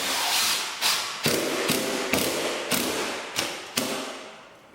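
Screw driven into a wooden window casing to mount a plant bracket, heard as a run of sharp, close thumps and taps at uneven intervals over steady broadband noise, with no talking.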